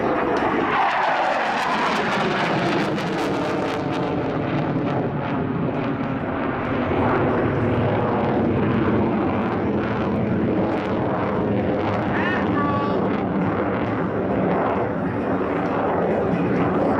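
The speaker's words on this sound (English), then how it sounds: "The F-A-18 Hornet from the United States Navy" Loud, continuous roar of a US Navy F/A-18 Hornet jet at an air show tactical demo, engine noise sustained and rumbling throughout with shifting pitch as it passes, nearby and dominant, no talk.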